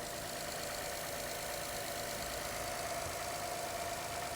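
An Acura 3.7-liter car engine idles steadily in a snowy auction lot, a faint, even hum with a light knocking texture and no talking.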